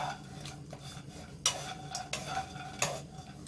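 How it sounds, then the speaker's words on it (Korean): Dry anchovies stir-fried with no oil in a pan over high heat, giving quiet scraping and clinking of a utensil against the pan with a few sharper knocks, close and faint, with no voices. "빨리 볶아줘야 돼요."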